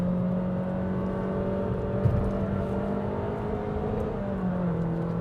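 A Honda City 1.5V DOHC engine pulls in second gear on a mountain road, a steady mid-pitched drone heard from inside the cabin, moderately loud and even throughout.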